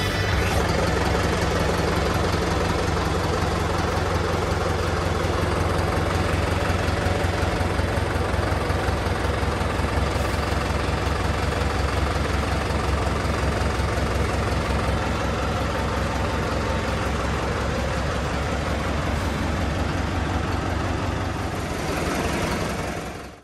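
A New Holland 5630 tractor idles while hitched to a 19-tine cultivator, its diesel engine giving a loud, steady low rumble with a faint knocking pulse that runs unbroken for the whole stretch before trailing off at the very end.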